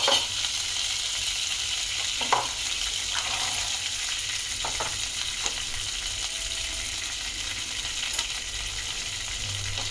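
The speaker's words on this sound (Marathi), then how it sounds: "तर कढईमध्ये थोडंसं तेल घालून वाफवायचे ते।" Green peas fry in oil in a kadhai, giving a steady, close sizzle throughout, with a few stirring clatters over it.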